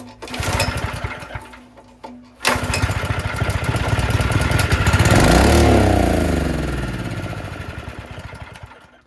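A Honda generator converted to run on LPG cranks with a brief pause, then catches and runs as a steady, loud small engine close by. Its pitch rises and wavers as it settles, with no voices.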